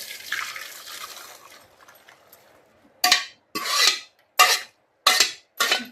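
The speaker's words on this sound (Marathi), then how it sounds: "त्यावरती आपली पुरणाची चाळण ठेवून घ्यायचं आणि हे डाळ यामध्ये ओतून घेऊया." Cooked chana dal being poured and scraped through a metal puran strainer set over a pot, first a soft wet rasping, then five sharp separate scraping bursts, close and fairly loud, with no speech.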